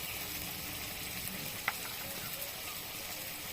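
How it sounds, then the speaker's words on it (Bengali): Rohu fish sautéing in a pan with cumin, coriander and chilli powder for rui posto, giving a steady, close oil sizzle throughout with a single sharp utensil clink partway through. "এগুলো কষিয়ে নেব। আর ওই সাথেই দিয়ে দেবো খানিকটা জিরে আর ধনে গুঁড়ো, লঙ্কা গুঁড়ো"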